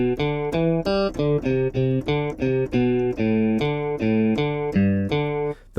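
Omnisphere 2 synth notes pushed through distortion play in a quick run of about fourteen separate buzzy tones, each with a slightly different pitch, loud and alone, ending in a brief gap and one last hit.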